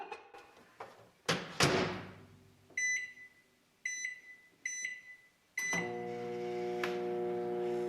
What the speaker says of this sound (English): Now we'll heat it up in the microwave for about 30 seconds.